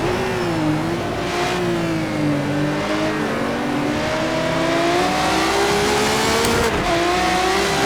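Road car racing in Project CARS 2 produces a steady, loud engine drone that rises and falls in pitch through gear changes and revving, with no voices.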